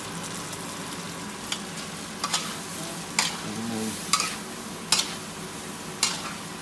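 Shrimp with salted egg being stir-fried in a pan, a steady low sizzle broken by sharp periodic scrapes of a spatula against the pan, close and clear.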